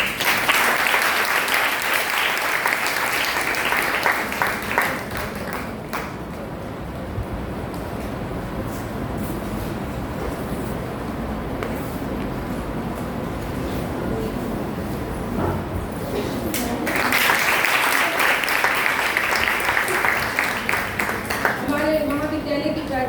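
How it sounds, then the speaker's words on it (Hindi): Sustained audience applause at a college lecture event, a dense wash of clapping that eases through the middle and swells again near the end, with voices murmuring beneath it. "आप सभी तालियों से"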